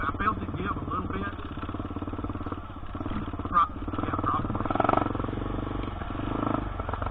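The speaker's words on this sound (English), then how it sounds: "I love the way that KLR sounds with the muffler I have on it." A KLR motorcycle fitted with an aftermarket muffler drones steadily while riding, its engine note rising and falling with small surges.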